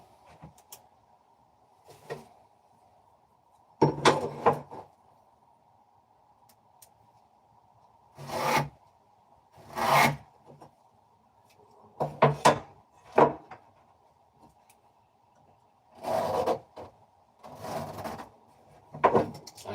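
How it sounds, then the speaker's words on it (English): A hand saw rasps through wood in several short bursts of back-and-forth strokes, separated by quiet pauses. "I like sawing wood like Jesus used to"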